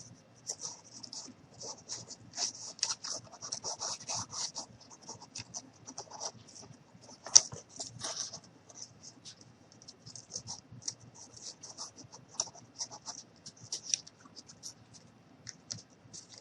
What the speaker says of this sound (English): I'm just going to grab a piece of cardboard, and I'm just going to cut it